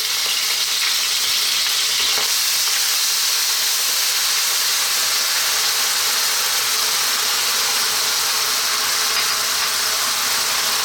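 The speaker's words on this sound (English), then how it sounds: "I've got some olive oil in there. We're going to start off by dropping in our onion." Onion and garlic fry in olive oil in a pan over medium heat, a loud dense hiss of sizzling that holds steady throughout, with one brief knock near the start and no speech.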